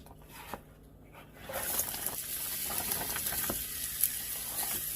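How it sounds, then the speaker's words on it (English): Onions sautéing in a little oil in a frying pan, a steady close sizzle that swells after the first second and keeps up with faint crackles and pops throughout. "I'm just going to saute these down just a little bit, just to cook them up just a little bit"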